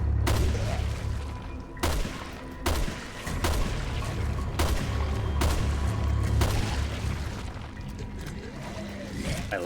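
Rifle shots in the survival horror game Resident Evil: Revelations 2: a series of loud, evenly spaced single shots, about seven, each with a short echoing tail, over a steady low rumbling background.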